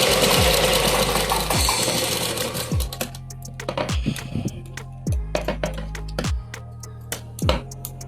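A sewing machine stitches the front panel of a blouse with a fast whirring run that slows into short stop-start bursts, each ending in a soft thump, close and clear with no talking.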